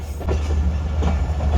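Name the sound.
Bolan Mail train running into Kotri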